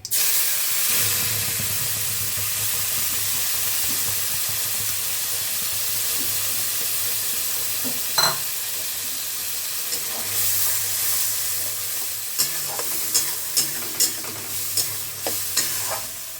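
A paste of garlic, ginger, tomato, green chili and whole garam masala fries and sizzles steadily in a pan, with a soft hiss and occasional stirring scrapes and taps toward the end; no talking.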